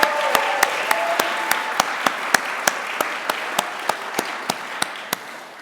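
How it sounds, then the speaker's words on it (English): A keynote audience applauds for Fernanda, giving a dense, even wash of clapping with one sharp regular clap standing out near the microphone, loud and sustained throughout. "let's give Fernanda another round of applause here"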